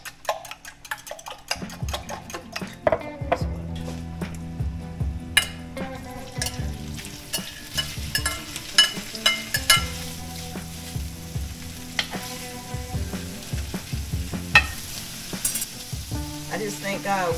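Food sizzles steadily in a hot skillet while breakfast is cooked, with salt and a whisked mixture nearby, the frying hiss running continuously under loud background music.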